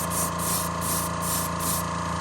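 Spray gun hissing in bursts of paint onto a bike crank being finished in midnight black, several pulsing sprays close to the microphone with a steady background hum.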